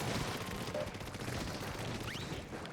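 Rapid bursts of weapon fire and blasts from the Splatoon 3 video game crackle in a dense, continuous barrage with a brief rising whistle near the end.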